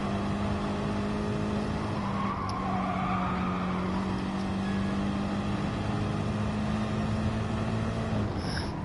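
A race car engine in the Gran Turismo Sport racing game holds a steady, continuous drone through an online lobby race, droning loud and unbroken with slight pitch shifts and no talk over it.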